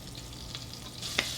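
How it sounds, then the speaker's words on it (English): Minced garlic sizzles softly in melted vegan butter in a pan, a faint continuous fry with a couple of brief crackles. "So I'm just gonna cook the garlic"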